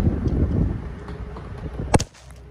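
Wind gusts buffet the microphone outdoors at a log cabin build, loud rumbling low blasts ending in a sharp burst before dropping to quieter background.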